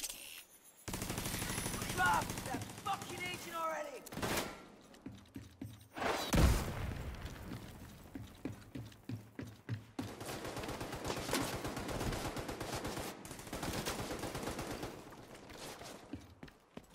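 Gunfire in The Division 2 comes in repeated bursts and scattered shots. Mechanical clatter and game sounds surround it, with quieter gaps and loud peaks across the fight.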